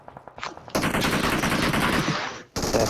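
Rapid bursts of automatic gunfire crackle loudly and continuously, with a brief pause before the shooting resumes, close, from the game PUBG Mobile.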